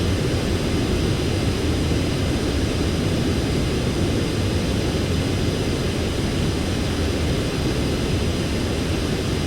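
A jet aircraft landing in Ace Combat 7 gives a steady, loud engine roar that holds unchanged throughout with no other sounds.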